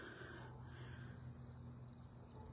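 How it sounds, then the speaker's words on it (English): Crickets chirping in a quiet residential neighborhood at night, a faint steady high trill running continuously without pause, with no voices. "You could literally hear the damn freaking, what are those, crickets?"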